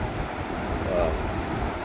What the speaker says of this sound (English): It's a bit windy, so that doesn't help.